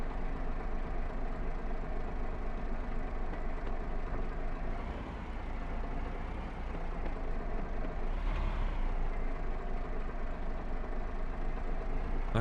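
A farm vehicle engine idles and ticks over in Farming Simulator 22, a steady, loud diesel drone that holds evenly throughout with only slight dips, no voices over it.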